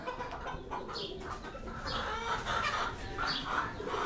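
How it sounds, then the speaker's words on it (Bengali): Chickens cluck softly in a pigeon farm, a few faint repeated clucks and calls rising over a constant hiss of background noise, with no voices. "এই পাশে দেখতে পাচ্ছেন একটা মুরগি উঠে গেল"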